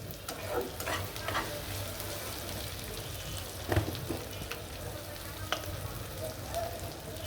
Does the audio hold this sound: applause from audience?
no